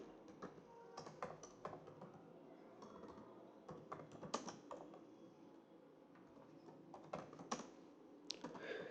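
Typing on a computer keyboard to enter a file name in an Excel fee management sheet, with quick, uneven runs of close clicking keystrokes and short pauses between them.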